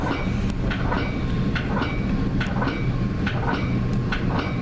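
A Metra BNSF weekend local commuter train, ridden from the cab car, slowing for a stop at LaGrange Road: a loud, steady rolling rumble with a regular clickety-clack of wheels over rail joints.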